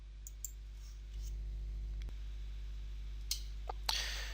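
A few faint, sharp computer mouse clicks while working in AutoCAD software, isolated and spaced apart over a low steady hum.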